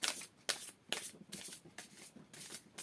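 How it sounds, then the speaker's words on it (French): Tarot cards are handled and drawn from the deck: soft, quick papery riffles and slaps come in regular bursts about every half second, close and quiet with no talking. "je vais sortir que 3 cartes"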